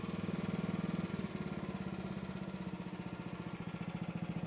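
A mini excavator engine runs with the throttle raised, a steady loud low mechanical thrum with rapid regular pulsing throughout, up close and with no talk.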